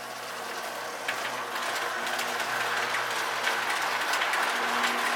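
Model train with a pair of 1991 K-Line Northern Pacific Alco locomotives rolling along layout track, a steady mechanical rumble with light clicking wheel and gear chatter, no voices.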